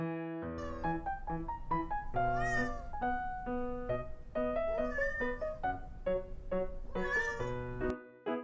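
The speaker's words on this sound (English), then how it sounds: "I hear a soft meow." Repeated cat meows sound near and clear in a steady string of short, drawn-out calls with sliding pitch. No one speaks over them.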